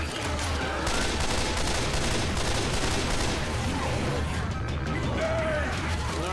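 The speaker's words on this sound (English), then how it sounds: "Pipe bomb, pipe bomb, pipe bomb going out." Pipe bomb in Left 4 Dead 2 going off amid a chaotic firefight, with dense rapid gunfire, crashing bursts and shouting voices over continuous loud action.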